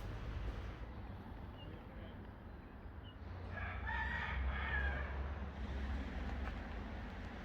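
Chickens cluck and a rooster crows at moderate distance outdoors, the calls rising into a brief burst of crowing in the middle over steady low background rumble.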